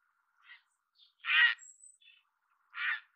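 Three harsh, croaking squawks from a grey heron, spaced apart with silence between them, fairly faint and distant.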